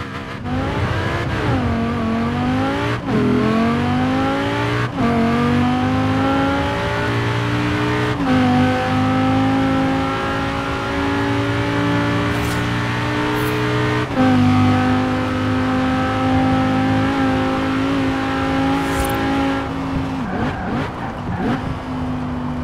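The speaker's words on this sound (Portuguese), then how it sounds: "Vamos botar a câmera interna e vamos baixar a marcha nessa Lamborghini." A Lamborghini Huracán in the racing game Forza Horizon 4, its engine revving hard and climbing in pitch, then dropping sharply on repeated downshifts, with brief tyre squeals and shifts recurring over loud, continuous engine roar.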